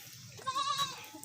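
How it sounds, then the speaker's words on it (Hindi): A pink goat kept with her two kids bleats once, close and clear. The wavering call rises in the middle of the moment between quieter background noise. "और ये बकरी है दोस्तों"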